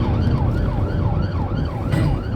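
An emergency vehicle siren wails in a steady rising and falling pattern, loud and close over a rumbling engine and road noise, with no talk.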